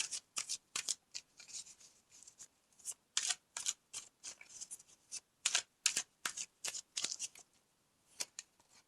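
Tarot cards shuffled by hand, a rapid series of crisp riffling bursts and soft card slaps in an irregular rhythm, close and alone in a quiet room.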